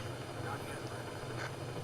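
A helicopter carries Alpha Team over a forest zone in Resident Evil HD Remaster, a steady, faint, low rotor drone that holds evenly throughout without change.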